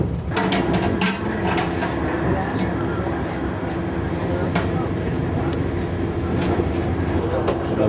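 A train descends through Alpine switchbacks toward Bellinzona with a continuous rumble and a few faint clicks from the rails. People talk nearby through most of it.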